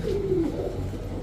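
A male pigeon coos once, a soft throaty rolling call, close by amid low background murmur at a pigeon market.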